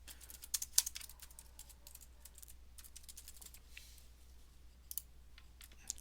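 Keys on a computer keyboard are tapped in quick, light bursts with a few sharper clicks, faint and close in an otherwise quiet room.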